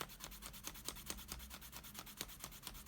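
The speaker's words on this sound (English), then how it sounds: "After sanding, I use some soft cotton cloth to clean it up." Steady rhythmic rubbing, a brisk back-and-forth scrubbing of soft cotton cloth on sanded crocodile leather, close and fairly quiet, with no voices.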